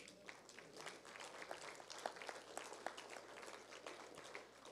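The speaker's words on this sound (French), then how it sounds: "Oui, applaudissons le Seigneur." A church congregation claps for the Lord in a quiet, distant patter of hands, uneven and soft throughout, with a low steady hum beneath it.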